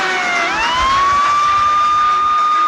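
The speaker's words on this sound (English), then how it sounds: "That's clever, using sirens on trains." A loud, steady siren wails from trains in a Thomas & Friends animation, rising in pitch at the start and then holding a sustained tone with an engine rumble beneath.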